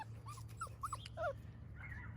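A dog in an outdoor kennel whimpers and whines in a few short, high, faint cries, heard over a steady low hum.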